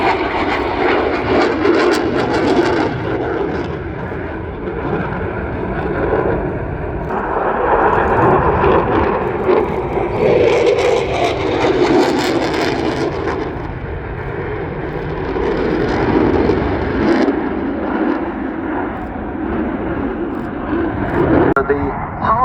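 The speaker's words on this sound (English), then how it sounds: "So here's Tom pushing the aircraft round, hanging in his straps, -3G, very uncomfortable." A military jet flying an aerobatic display at the RAF Cosford Airshow produces a steady, loud engine roar that swells and fades. A commentator talks over it throughout.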